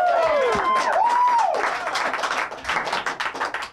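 A studio crowd on a live gaming show breaks into brief applause and clapping under a swooping electronic musical sting, the claps continuing unevenly as the music fades.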